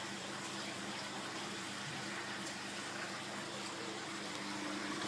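Water steadily pouring and splashing in a waterfall aquarium built from a converted planter box, a constant broadband rush heard close and faint with a low pump-like hum underneath.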